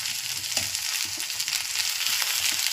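Mangalore-style pathrode, colocasia leaf rolls, frying in oil in a pan, giving a steady, close crackling sizzle with dense bubbling hiss throughout and no voices.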